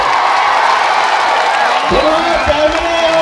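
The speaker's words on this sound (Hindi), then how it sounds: "दोनों हाथ ऊपर करिएगा और जोरदार तालियों से अकबर अवैसी साहब का शुक्रिया अदा करिए।" Crowd at an AIMIM political rally in Aurangabad claps and cheers loudly in a dense, continuous wash, with a voice rising over it in the second half.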